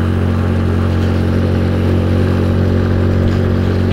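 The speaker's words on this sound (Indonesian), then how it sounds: "motor ini bisa kuat menanjak" A motorcycle engine strains loudly and steadily up an extremely steep, narrow road, its constant close drone filling the whole stretch without any talk.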